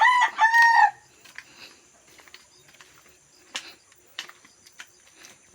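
Chickens kept under a house cluck while a rooster crows, one loud call at the start followed by scattered faint clucks and chirps over a quiet rural background.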